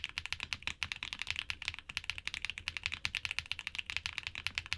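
Typing on a keyboard with HMX Swift linear switches, factory-lubed: a steady, fast run of soft, gentle clacks with even rhythm, close and moderately quiet, no voices.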